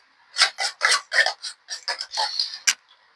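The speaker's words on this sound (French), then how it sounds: "je bats comme ça, je fais le mélange" A breakfast mixture beaten by hand in a bowl, a quick series of about ten rasping, scraping strokes close to the mic, each a short burst with brief gaps between.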